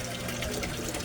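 Water pumped by a solar-powered pump flows steadily into a koi fish pond, a continuous close wash of splashing and trickling with no break and no voices.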